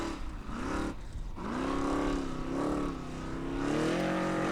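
A Formula Offroad car, named Insane, at a 2022 Icelandic event in Hella, roars up a steep hill, its loud engine rising and falling in pitch with throttle bursts and a brief dip before surging on.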